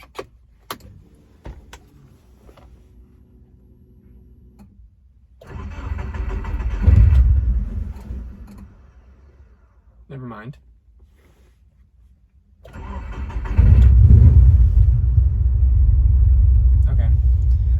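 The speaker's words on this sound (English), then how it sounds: "then you're gonna turn on your car." A car engine with a standalone engine computer cranks and starts, rumbling loudly for a couple of seconds, then again after a pause with a longer roaring start; a brief spoken remark between.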